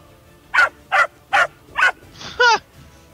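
A human voice imitates a small dog, probably a chihuahua, with four quick, evenly spaced yappy barks and then a short rising whine, loud and close against quiet.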